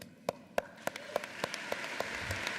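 Audience at a university spring convocation ceremony starts applauding, first with a few sharp, evenly spaced claps that quickly thicken into a light, spreading patter of many hands across a large hall.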